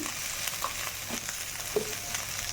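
Slit green chillies and salt being tossed in hot oil in a pan, a low crackling fry with a few soft stirring scrapes, fairly quiet and close.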